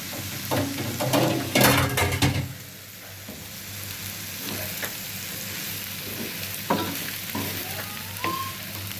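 Meat frying in a pan with tomato, onion and chili: a loud, steady sizzle with bursts of stirring and scraping clatter near the start, settling into a continuous close crackle.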